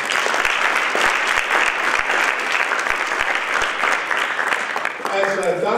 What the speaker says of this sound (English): we should give our sponsors another round of applause for this excellent program